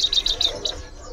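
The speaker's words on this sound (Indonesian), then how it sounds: "Tepus kepala abu." A grey-headed babbler (tepus kepala abu), a male bird, gives a quick series of four or five thin, high chirps, close and clear over a quiet background.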